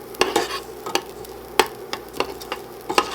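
Garlic cooks in oil for cilantro lime rice. A spoon scrapes the pan in a series of distinct strokes over a soft, steady sizzle.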